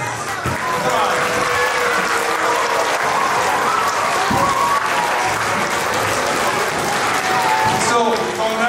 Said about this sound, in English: Round of applause for our winners.